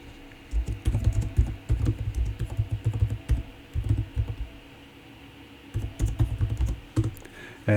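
Rapid keystrokes on a computer keyboard come in close, clattering bursts with a short pause in the middle, then resume.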